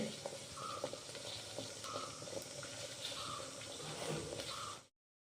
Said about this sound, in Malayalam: ഇനി ഇതിലേക്ക് അല്പം തേങ്ങാപ്പാൽ ചേർത്ത് കൊടുക്കാം